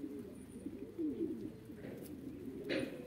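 Low, throaty coos from a Van pigeon roll on continuously with a steady murmur, moderately close, with no voices.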